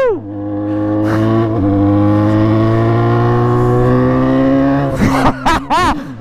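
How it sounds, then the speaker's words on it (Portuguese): A motorcycle engine, an XJ, revs and holds a loud, steady high-revving drone close by, then blips sharply up and down in several quick throttle bursts near the end. "Ele tá acelerando a moto"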